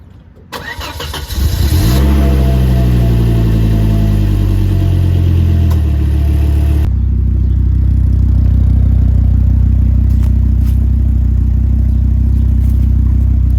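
A Volvo S60R engine cranks, catches and revs up sharply, then drops to a loud, steady idle with a slight uneven stumble from a minor misfire, close by with no voices.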